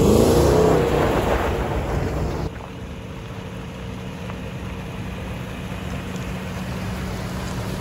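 A first-generation Toyota Sequoia with a V8 drives along, its steady road and engine rumble heard from inside the cabin with wind noise, slightly louder at first and then settling to an even level.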